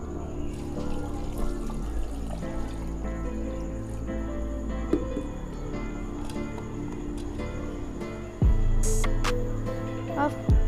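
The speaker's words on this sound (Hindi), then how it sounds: "1 जग पानी डाल देंगे।" A jug of water poured into a clay pot holding meat and chopped onion, a continuous trickling pour over a steady background hum, ending with a louder splash and clatter near the end.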